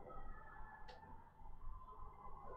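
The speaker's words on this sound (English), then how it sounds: "We're hearing sirens in the background." Town sirens wail faintly in the distance, their steady tone sitting low under a rumbling background with a brief sharp noise near the one-second mark.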